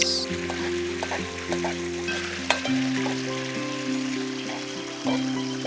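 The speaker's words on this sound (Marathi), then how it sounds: "चला आता फोडणी टाकूया कांदा टाकतो" Onion dropped into hot oil for a Maharashtrian tempering on an outdoor village stove beside a stream, sizzling and crackling steadily up close, with sharp clatters as it is stirred and a faint background hum.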